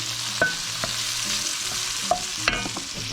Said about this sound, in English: So we're just going to stir this around, let them soften up a little bit.